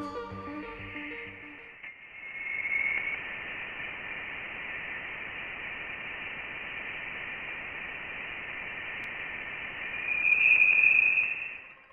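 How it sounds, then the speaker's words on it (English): Sonified recording of interstellar space from the Voyager probe, a steady hiss of static with a thin high whine running throughout, swelling slightly twice, after a brief tonal passage at the very start. "Here, let me play you the sound of interstellar space."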